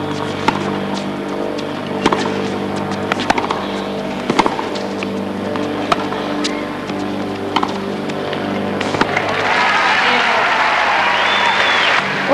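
Tennis match crowd at a final applauding, scattered sharp claps early building into a sustained wash of applause toward the end, with a voice talking over it.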